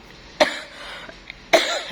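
Two sharp coughs, close and loud, spaced about a second apart with quiet between them.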